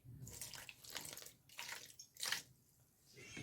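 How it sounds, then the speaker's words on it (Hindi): About a cup of water splashes and pours into a cornmeal and salt batter mix for Korean sweet and spicy chicken, in short uneven gushes, close up and fairly faint. "तकरीबन 1 कप पानी।"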